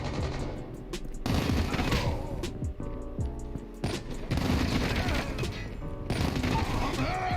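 Call of Duty Mobile weapon fire comes in loud, dense automatic bursts, several strings of rapid shots separated by brief pauses over game ambience.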